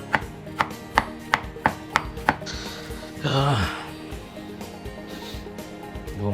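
Onions being chopped on a board in a home kitchen while cooking chicken curry: seven crisp, evenly spaced knife chops close up, followed by a scraping, clattering handling sound.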